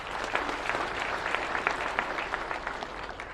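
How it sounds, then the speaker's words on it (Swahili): Church congregation claps together for Jesus during a service, a steady moderately loud round of applause with distinct hand claps throughout and no talking. "Tupigie Yesu makofi."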